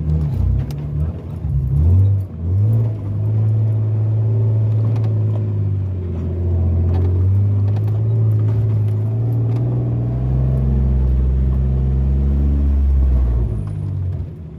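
A 2011 Jeep Wrangler in four-wheel-drive low range climbs out of a ravine on an Arizona creek trail, its engine droning steadily loud and close, with rising revs and a heavier rumble toward the end.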